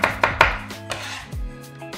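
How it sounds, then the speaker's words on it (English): A knife chops celery into strips on a cutting board, a few sharp close thuds followed by softer cuts in a home kitchen. "I'm just chopping it into strips and then coming across."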